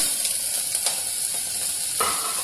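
Green beans fry in hot oil with cumin, curry leaves and asafoetida, sizzling loudly and evenly close by, with a few faint scrapes and crackles over a brief stretch.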